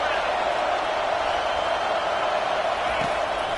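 Steady crowd roar fills a college football stadium during a defensive stand, a loud continuous wash of many voices with no breaks, under broadcast commentary.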